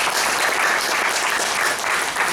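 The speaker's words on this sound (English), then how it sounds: "A huge round of applause for Melvin and his family." A crowd at a 2019 event gives a sustained round of applause, dense and even clapping throughout with no pauses.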